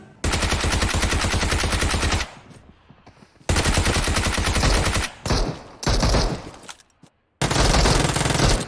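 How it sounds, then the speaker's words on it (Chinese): Rapid bursts of submachine gun fire in the video game Peacekeeper Elite, loud and close, broken by short pauses between volleys. "找准时机，立即开枪。"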